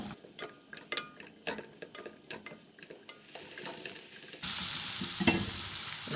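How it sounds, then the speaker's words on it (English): Apple slices brown and caramelize in a frying pan, starting with scattered taps and scrapes of stirring before a loud, dense sizzle swells up and holds steady to the end. "The idea is to brown the apples nicely, caramelizing them a little bit."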